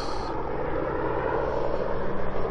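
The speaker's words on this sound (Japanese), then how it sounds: "もうドクターヘリ飛んでるわ。" A Japanese air ambulance helicopter passes overhead during a snowy late-winter evening walk near Asahikawa station, a steady, fairly loud rotor and engine drone filling the air with no talk.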